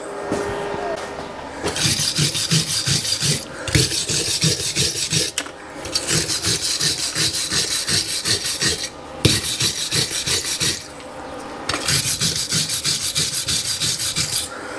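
A wire brush scrubs a freshly welded plate on a Kawasaki ZZR250 motorcycle, rapid rasping back-and-forth strokes in several bursts separated by short pauses, close and loud, with no talking.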